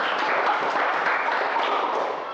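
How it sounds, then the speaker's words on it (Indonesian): A classroom breaks into a short burst of dense applause for a student group, steady clapping from many hands for about two seconds. "beri tepuk tangan dulu untuk kelompok 1"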